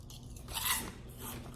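An airy Korean puffed snack is bitten and chewed close to the mouth, giving a soft crisp crunch that peaks once and then fades into lighter chewing, with no talking.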